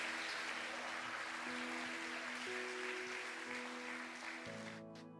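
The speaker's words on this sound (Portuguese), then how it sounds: "Aplauda Jesus aí" Church congregation applauding during a sermon, a steady dense wash of clapping that holds throughout, with sustained musical tones underneath and the clapping thinning toward the end.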